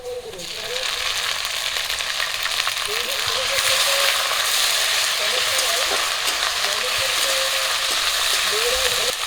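Ginger, cumin and garlic paste sizzles steadily in hot oil with onion and green chilli, a loud continuous frying hiss with faint stirring scrapes.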